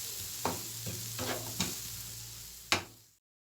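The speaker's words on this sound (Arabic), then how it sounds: "غادي نحاول اني نخلطها مع هاد الفلفله والبصله وهاد التوابل" Tuna is mixed with pepper, onion and spices in a sizzling pan: steady close frying hiss broken by a few sharp spatula scrapes and taps, ending abruptly in silence.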